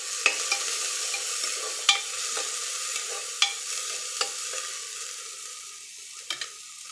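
Onions fry in a pan with a soft, even sizzle while a utensil stirs them, scraping and clinking now and then at irregular moments. The sound is close and clear, with no voices.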